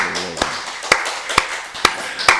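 A church congregation at a Wednesday worship service claps in praise to God, five sharp, evenly spaced claps ringing out in a slow, steady rhythm.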